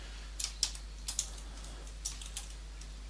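Sparse keystrokes on a computer keyboard while code is being typed, a handful of light, irregular clicks near and fairly quiet over a faint steady hum.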